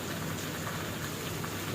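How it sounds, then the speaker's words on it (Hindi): Heavy rain pours down steadily in Hyderabad, a dense, continuous hiss of drops hitting surfaces, even and unbroken throughout with no voices. "और अच्छी खासी बारिश हो गई"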